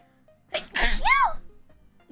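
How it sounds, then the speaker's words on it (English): One loud, close sneeze bursting in with a sharp intake and a forceful, pitched exhale, followed by a brief quiet lull and a short thump at the end. "There was a loud sneeze, my bad."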